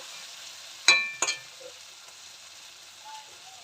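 Spices for a rohu fish curry with onion, garlic and tomato frying in oil give a steady, soft, hissing sizzle. Two sharp utensil clinks come close together early on.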